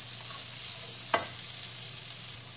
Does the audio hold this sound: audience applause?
no